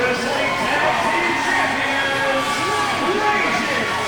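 Crowd cheering at a Halloween Mayhem 2014 pro wrestling show as the ASW tag team champions, Rocky Rage and Shane Storm, make their entrance; a steady, loud roar of many voices fills the whole stretch without pause.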